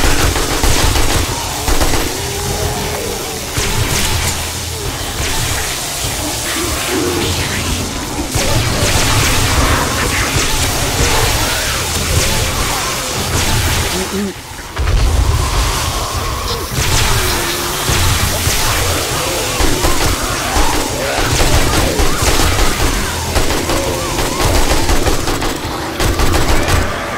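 Machine gun fire in the video game 7 Days to Die comes as loud, dense sustained bursts with booms and whooshes, nearly continuous and briefly pausing midway.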